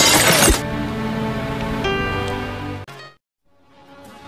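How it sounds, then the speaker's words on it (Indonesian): A school window's glass is smashed with a sharp, loud shattering burst at the start, followed by a ringing tonal decay that cuts off abruptly, then quiet background sound. "Namun tiba-tiba ia memecahkan kaca sekolah"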